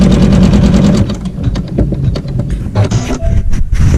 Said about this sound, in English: it's going to just sew a tack down stitch to attach this to my Battilizer in my wool.